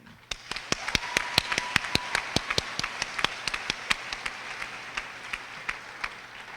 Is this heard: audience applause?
yes